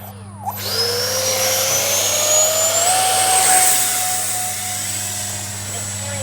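A small Arrows 50mm Avanti S electric ducted-fan RC jet flies past after an underhanded launch, its whine rising in pitch then holding steady, loud and close against outdoor wind.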